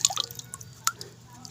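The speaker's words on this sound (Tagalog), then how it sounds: "Basahin natin ng tubig." Water splashed onto a red ant amulet stone gives a few quick, light drips and small wet taps, close and quiet, spread across a short moment with no talking.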